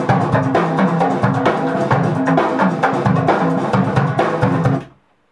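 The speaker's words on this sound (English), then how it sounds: "And then drums." A drum kit in a percussion overdub session plays a dense, busy groove of loud close hits and cymbal wash, cutting off abruptly near the end.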